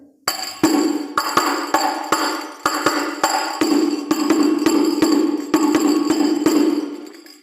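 Reginci strokes on a terbang frame drum playing the tikah rhythm, sharp bright taps and deeper open hits in a steady repeating pattern, close and loud with no talking.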